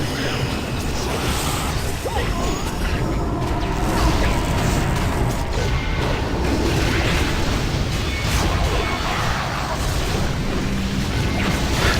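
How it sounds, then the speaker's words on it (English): A video game explosion rumbles on for a dense, sustained stretch, a loud continuous wash of crashing, creaking and clattering debris noise with no clear gaps. "It's exploding."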